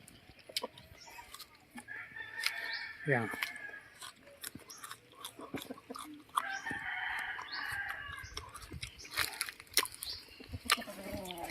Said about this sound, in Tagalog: Pag may-ari ng manok na ito.